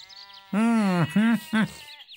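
A sheep bleats three times in quick succession, a wavering, nasal call that is loud and close, the first bleat longest and the last shortest.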